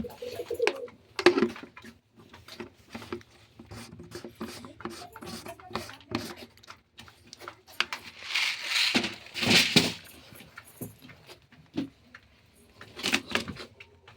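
Pigeons cooing softly in a domestic setting where they had been eating mung beans, with intermittent calls and some wing or shuffling noises, fairly close and without talk.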